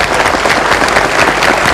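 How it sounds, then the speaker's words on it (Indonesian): Brief burst of loud, dense audience applause at an Indonesian community event on empowering the elderly and people with disabilities, with crowd clapping throughout. "Kita beri tepuk tangan."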